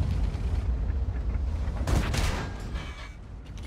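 A tank cannon shot bounces off armor in World of Tanks. A sharp, loud metallic impact crack rises out of low, rumbling battle noise near the middle, then settles back into the ongoing din.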